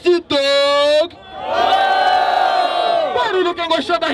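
A loud crowd at a freestyle rap battle roars and shouts together in a sustained burst, with a few sharp yells at the start and scattered whoops as it tapers off.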